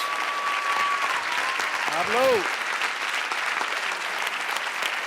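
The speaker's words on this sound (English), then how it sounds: "a big round of applause for Pablo Iglesias" Big round of applause from a New York audience at a talk on Spain's political change, loud sustained clapping across the whole clip, with a brief vocal whoop rising through the middle.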